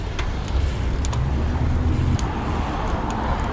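Car traffic rumbling steadily close by while a mountain bike rides and splits between cars on city streets, a continuous low roar with passing vehicles and no talk.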